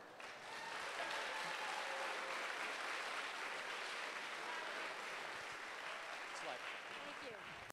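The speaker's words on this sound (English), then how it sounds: "Let's give them a round of applause." An audience at a robotics competition alliance selection event applauds to welcome Navy recruiting staff. The clapping is broad and continuous and sounds somewhat distant and faint, with a hint of crowd murmur underneath.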